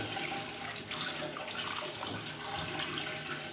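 Lukewarm tap water runs steadily over raw chicken being washed in a sink before cooking brosted chicken, a continuous close splashing flow with no talking.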